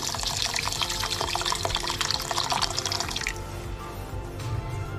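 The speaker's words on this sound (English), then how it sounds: "So we put water for washing it thoroughly." Water runs steadily into a bowl of uncooked rice being washed by hand in a home kitchen, a dense continuous splashing and trickling that softens and drops off after about three seconds.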